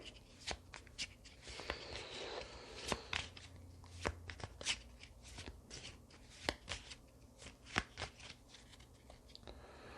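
Card-shuffling sound effects from the video game Way of the Samurai: quiet, repeated crisp flicks and taps that continue throughout.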